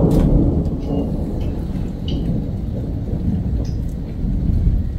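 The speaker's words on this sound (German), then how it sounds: "Aber es donnert noch ganz schön laut." Deep, continuous rumbling thunder rolls on throughout, with steady rain in the background and a few faint bird chirps.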